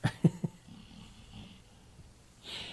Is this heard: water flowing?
no